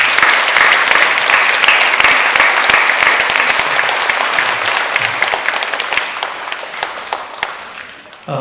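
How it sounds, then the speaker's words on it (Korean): A Korean church congregation at a Sunday morning worship service applauds the choir's praise singing, with dense, close clapping that holds strong, then tapers off and falls nearly silent at the end. "우리 찬양에 감사하는 마음으로 또 오래도록 찬양하는 기쁨을 누리도록 우리 박수하도록 하겠습니다."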